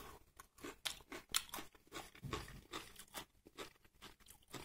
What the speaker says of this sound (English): Nice and crunchy.